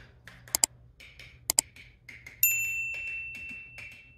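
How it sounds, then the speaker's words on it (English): Lids of home-canned food jars are tapped to check the seal: two sharp separate clicks, then a bright ringing ping that sustains and fades, quiet and close. "you just want to tap on them to see if you hear hollow or like a high pitch sound."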